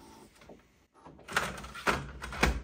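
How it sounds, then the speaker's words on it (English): A drawer slides shut with a soft rumbling glide and a few muffled bumps, likely a printer paper tray being pushed closed, quiet and close by with no talking. "Close the drawer."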